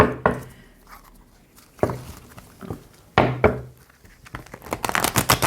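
Oracle cards being shuffled by hand, giving a series of crisp papery riffles, slaps and crinkles in irregular bursts, close and fairly quiet, with no talking.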